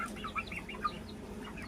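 Chickens and guinea fowl cluck softly while grazing outdoors, a few brief, faint chirping calls scattered over low background noise.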